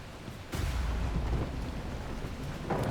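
Thunderstorm and heavy rain at sea in The Last Caretaker: a sudden low rumbling crack of thunder opens into a steady rush of downpour, fairly soft, with no talking.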